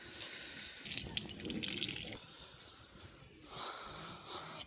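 Water runs and splashes steadily as feet are washed before entering a Kali temple in Hyderabad, with a louder gushing stretch midway and softer trickling and drips around it.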